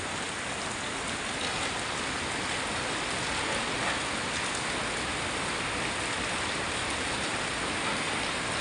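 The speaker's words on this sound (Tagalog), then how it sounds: "ang lakas ang ulan dito guys" Heavy rain pouring steadily outdoors, a dense, even hiss of drops on surfaces filling the whole stretch without a break, with no voices.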